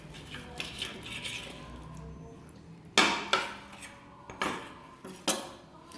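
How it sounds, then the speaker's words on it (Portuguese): A knife chops through meat on a cutting board in a home kitchen, sharp knocks landing irregularly then in a quicker run of several strikes, close and clear with faint background clatter. "Agora eu só vou picar a carne."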